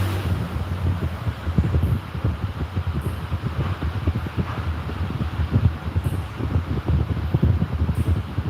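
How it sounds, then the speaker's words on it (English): Steady wind blows outdoors in Thailand, a continuous rough rumble buffeting close against the microphone with small gusts throughout, no voices over it. "Yeah, that wind blowing, man."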